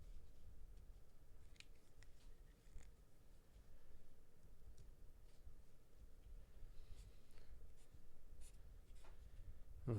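A pen scratching across paper as a chemistry structure is drawn, soft close strokes and small taps over a faint low background rumble.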